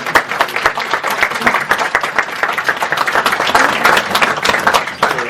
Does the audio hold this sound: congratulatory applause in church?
yes